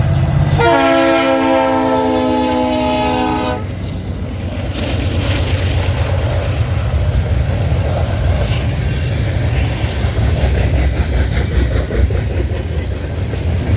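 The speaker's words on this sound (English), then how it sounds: "That horn was fucking loud, by the way." A loud, close freight train horn blasts for about three seconds at East Townline Road in Newtonville, Ontario. Then the heavy rumble of passing rail cars follows, with rhythmic clacking of wheels.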